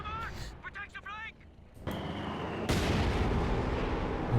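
Artillery shells land in Company of Heroes 2, a loud roaring blast that bursts in after a brief whistling descent and some talk, then a sustained heavy rumble filling the end.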